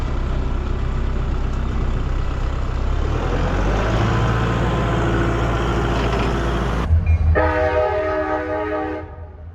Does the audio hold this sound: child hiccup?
no